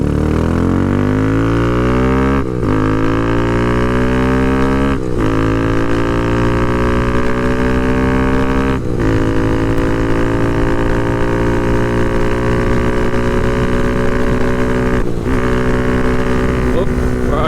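A dirt bike fitted with a DHM 149cc big bore kit revs loudly while riding, its engine climbing in pitch through several gear shifts, each marked by a brief dip before rising again, with wind rush.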